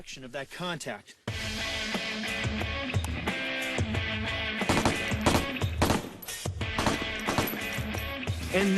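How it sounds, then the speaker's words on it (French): Rapid bursts of machine gun fire crackle repeatedly over a busy, loud background, with voices and other clatter mixed in throughout. "il faut mitrailler en direction de l'endroit d'où viennent les coups de feu"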